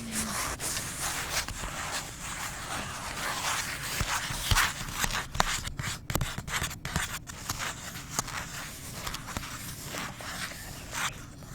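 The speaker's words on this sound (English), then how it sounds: "I can't believe that the sound of scratching on a piece of paper." Dry scratching and rubbing on a piece of paper, close and soft, in irregular strokes and taps that continue throughout at a quiet, intimate level.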